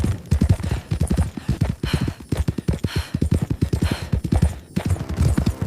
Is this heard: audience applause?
no